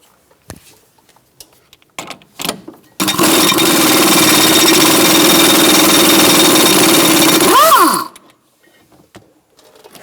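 An impact gun rattles hard for about five seconds, removing a strut nut on a 2005-2010 Chrysler 300, loud and close, its burst winding down with a falling whine after a few light tool clicks.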